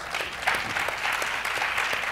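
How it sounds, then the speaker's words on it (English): An audience at a 2011 national education summit gives a round of applause, a brief burst of many hands clapping together, even and moderately loud, with no speech over it. "Give the brother a round of applause"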